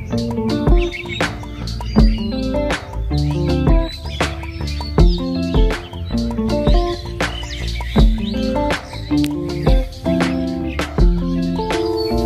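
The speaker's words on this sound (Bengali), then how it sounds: "পাখির আওয়াজটা কিন্তু দারুণ অসাধারণ একটা আওয়াজ ছিল পাখির" Birds sing at Tarua sea beach on Dhalchar, bright chirps and calls repeating in quick bursts, close and clear with no talking.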